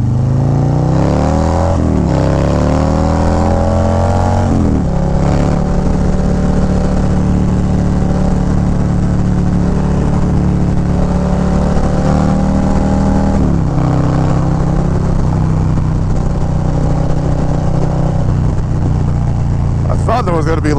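Harley-Davidson Low Rider ST motorcycle with a 131 engine pulling in first gear on a highway, a loud continuous V-twin drone with rising and falling revs through the ride, wind rush over the exhaust and a voice talking throughout.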